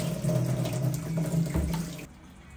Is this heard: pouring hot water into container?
yes